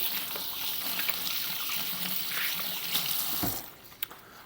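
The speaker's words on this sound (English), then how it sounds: "let me wash my hands again" A kitchen tap runs steadily while hands are washed under the stream, giving a close, continuous splashing hiss that cuts off near the end and is followed by a few faint knocks.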